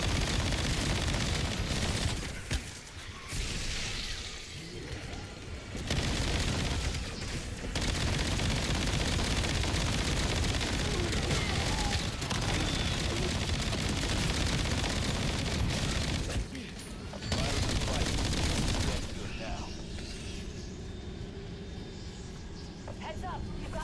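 Gunfire in Black Ops 7 Zombies, loud sustained automatic bursts that run almost without a break, with short pauses between volleys and talk over the top.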